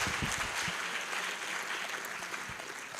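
An audience at a students' day event keeps up steady, moderate applause for about three seconds, a dense patter of many hands without talk.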